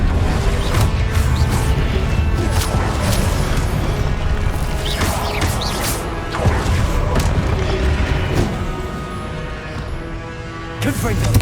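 Spell explosions from the Confringo blasting curse in the Hogwarts Legacy video game, a dense run of loud booming bursts and crashes layered over continuous game effects and music for the whole stretch.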